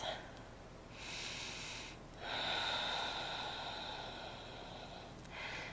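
Deep, slow breathing during a gentle yoga stretch: three long, airy inhales and exhales, close and soft, with a lengthy breath in the middle and quiet pauses between them.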